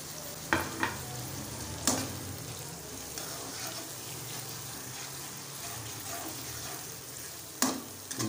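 Tomatoes going into a pan of frying bhindi keema masala, a steady close sizzle of oil and meat with a few sharp stirring clatters and spoon knocks scattered through.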